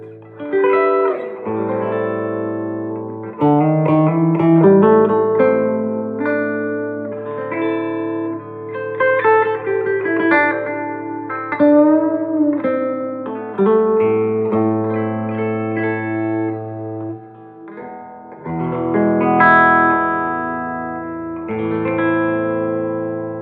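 Electric guitar played through a 1963 Gibson Falcon GA-19RVT amp with reverb on, chords and melodic picking ringing out with a spacious, lingering tail; steady and fairly loud, no voices.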